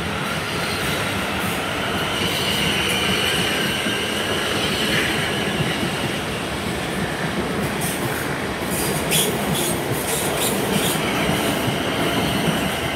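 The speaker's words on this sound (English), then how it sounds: "departing out is 444-031 on the front of a service to London Waterloo" Class 444 electric unit 444-031 departing Brockenhurst station for London Waterloo, a loud continuous rumble of wheels and motors with wheel squeal and clicking rail joints rising toward the end, no talk.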